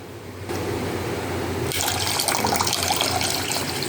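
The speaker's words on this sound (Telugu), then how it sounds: "ఒక గోళం పెట్టుకొని ఇందులో నీళ్ళు పోసుకోవాలండి." Water is poured into a cooking pot while Schezwan noodles are being made. It begins as a soft trickle, then swells into a fuller, louder splashing stream.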